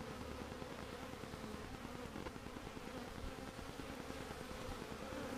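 A swarm of honeybees fans and buzzes in a dense, steady drone that stays close and continuous without a break, and no voices can be heard.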